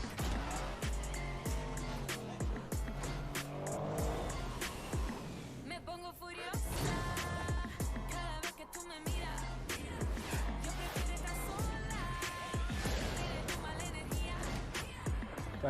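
Rocket League cars race and boost through a video game trailer, with revving engines, tire squeals and impacts mixed against music while people talk over it.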